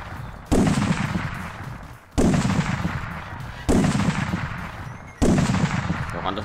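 Four heavy, booming gunshots from Ark Survival Evolved, spaced about a second and a half apart, each loud blast fading into a rumbling tail, with no talk over them.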